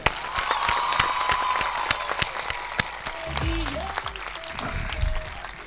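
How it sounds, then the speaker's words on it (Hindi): An audience applauding Akbar Khan at a school event, with dense, steady clapping from many hands close by. Brief chatter or other sounds from the crowd come through near the end. "तमाम एक तालियां हो जाए इनके लिए"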